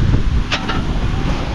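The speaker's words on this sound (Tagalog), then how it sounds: "Ulay, kalakas ng hangin." Strong wind buffets the microphone with a low, constant rumble, a couple of brief higher gusts rising over it in a short burst.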